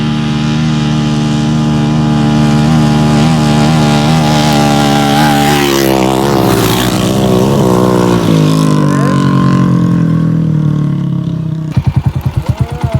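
A loud motorcycle engine runs steadily and close, its pitch rising and falling as it revs, then sputtering roughly near the end.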